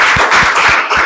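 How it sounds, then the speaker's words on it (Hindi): A group of people claps in a discussion session, a few loud, evenly spaced claps heard close and alone. "ताली बजाओ सबके लिए।"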